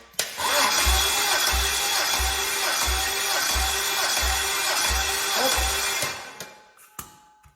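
A BMW V12 engine cranks over during a compression test in a steady, rhythmic chug of about eight even pulses, then cuts off abruptly, leaving only faint clicks.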